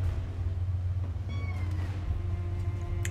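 A cat gives a single short meow partway through, moderately clear above a steady low rumbling hum that fills the whole stretch.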